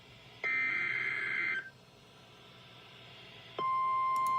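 Emergency Alert System header tones for severe thunderstorm warnings from weather radio stations: loud steady electronic beeps, one long tone that cuts off, a pause, then a second tone starting, with no voices.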